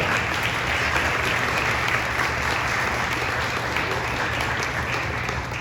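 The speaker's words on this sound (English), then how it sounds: "Let's give her a round of applause for their support." Guests at a Hall of Fame celebration dinner give a full, steady round of applause, a thick continuous patter of many hands over a low room hum, tapering just slightly at the close.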